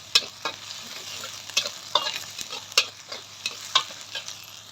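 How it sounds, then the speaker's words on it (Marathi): Green chilli, cumin and garlic sautéing in oil, a low sizzle broken by regular scraping strokes of a spatula against the pan, about one every half second. "चांगले हिरवी मिरची जिरे लसूण हे छान त्याच्यात परतून घ्यायचं"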